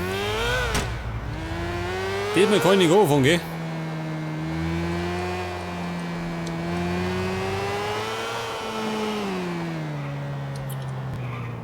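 Motorcycle engine in Grand Theft Auto IV revving and droning with rising and falling pitch, a brief higher whine burst early on, someone talking over it.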